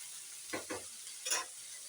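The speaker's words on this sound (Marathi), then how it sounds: "मस्त असं व्यवस्थित वरचेवर हलवून घ्यायचं असं" Radish bhaji being stirred in a pan, with a soft continuous sizzle and a few scraping strokes of the spoon, fairly quiet and with no talking.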